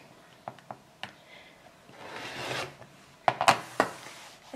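A rotary cutter slices quilt fabric strips into 8.5 inch squares on a cutting mat, giving quiet scraping rasps and a few sharp clicks and taps, with no talking.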